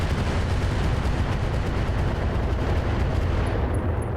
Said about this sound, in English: Pirate Archer firing on the land air mech.